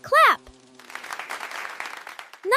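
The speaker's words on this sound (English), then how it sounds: "Clap 3 times with me" A burst of clapping from a children's vocabulary quiz, the hand claps running together as a steady patter for almost two seconds after a short sung chime, then a voice starts up.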